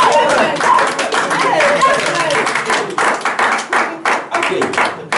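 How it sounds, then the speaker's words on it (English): A church group claps together in a burst of scattered, lively applause that tapers into uneven individual claps, with voices chattering in the room. "Let's clap for him."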